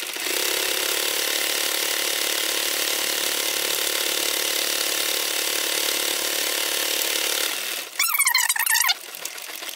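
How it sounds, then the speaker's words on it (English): A walking-foot sewing machine with a size 18 leather needle and heavy top thread stitches around a leather strap, its motor whirring steadily and close for about seven seconds before stopping, followed by a brief clatter. "I'm just gonna sew all the way around my strap and leather piece"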